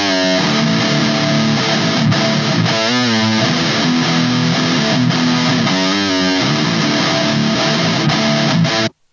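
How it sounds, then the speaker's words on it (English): Distorted rhythm guitar track soloed from a rock song mix, playing dense sustained chords loud and continuous for about nine seconds before cutting off abruptly. "So the rhythm guitar sounds like this."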